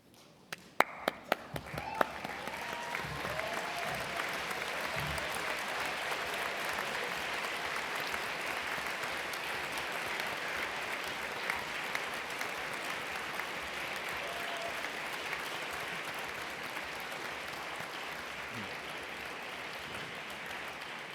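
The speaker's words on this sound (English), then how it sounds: "showing your thanks with a huge round of applause" Audience applause at a university graduation ceremony for the Faculty of Media and Communication starts with a few scattered claps, then swells into sustained, dense clapping from a large crowd that continues steadily for about twenty seconds.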